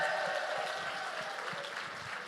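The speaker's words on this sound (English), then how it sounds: "Give a hand up for that, folks. Round of applause," Audience applause fills the room as a steady, dense wash of clapping from a crowd, continuous and fairly even throughout with no talk over it.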